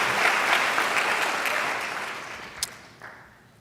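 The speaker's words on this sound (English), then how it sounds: "So please give yourself a round of applause." Graduating class at a physician assistant program ceremony in Seattle giving a round of applause, a full steady burst of clapping from the crowd that gradually thins out with a few last claps.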